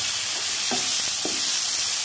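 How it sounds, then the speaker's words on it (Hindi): Arvi masala with spices sizzling in a hot pan while being stirred, a steady bright hiss with a couple of short scraping strokes from the spoon, close and alone. "इसे हम अच्छे से मिक्स कर लेंगे"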